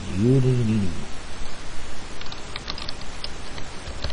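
A brief tonal cry opens, then sparse, faint key clicks of one-handed typing on a computer keyboard come in a short irregular burst in the latter half, over a quiet room hiss.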